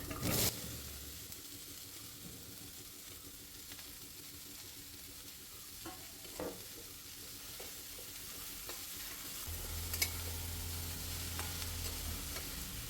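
Chopped bitter gourd sizzling with grated coconut in a pan makes a soft, even hiss, with occasional knocks of a spoon and a low hum joining near the end.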